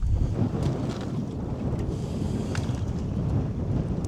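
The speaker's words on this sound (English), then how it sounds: "this gust of wind that's blowing 30 miles an hour right now" A strong 30 mph wind gusts across a lake, a loud, steady roaring rush buffeting the microphone, with water and a boat faintly beneath it and no talking.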